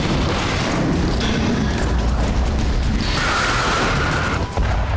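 Blast from an air strike on a research centre in Masyaf, Hama province, Syria, heard as a loud, continuous roaring rumble with heavy low-end noise sustained throughout, no speech over it.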